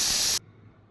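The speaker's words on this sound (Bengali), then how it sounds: "ব্যাস, আমার সিটিও পড়া শুরু হয়ে গেছে।" Burst of steam hissing from a pressure cooker of mutton curry, loud and close, cutting off abruptly partway through and leaving near silence.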